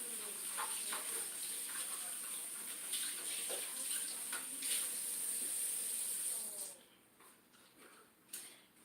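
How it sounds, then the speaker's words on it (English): A candy container is rinsed out under a running tap, the steady hiss of flowing water lasting several seconds before cutting off, followed by a faint clunk. "This is one of them, so I'm going to wash it out."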